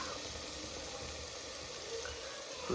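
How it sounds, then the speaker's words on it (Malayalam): A pot of Kerala toddy-shop style mackerel curry coming to a boil, giving a steady, even bubbling hiss that holds unchanged throughout with no voices. "ഒരെണ്ണം തിളച്ച് വരുന്നുണ്ട്"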